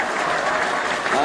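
An audience at a Hindi comedy poetry show bursts into steady, dense applause, a loud continuous wash of many hands clapping together throughout the short stretch.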